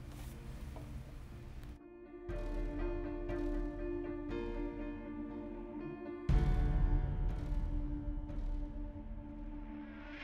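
A wrench ratchets bolts tight on a vacuum pump during servicing, close and fairly quiet metallic clicking in bursts with tonal ringing and short pauses between turns, no talk.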